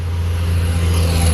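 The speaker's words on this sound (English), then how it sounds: "excuse the traffic noise" Steady road traffic rumbles close by beside a metal detecting site at an old childhood home, a continuous low drone of passing cars with no break and no talking.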